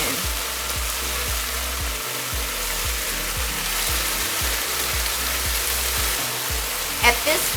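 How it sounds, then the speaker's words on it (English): Pork belly drunken noodles (pad kee mao) sizzle loudly in a hot wok, with a constant hiss and a regular run of scraping, knocking strokes as the noodles are tossed. "just so the noodles can come in contact with the wok right away and get you that char, the wok hay"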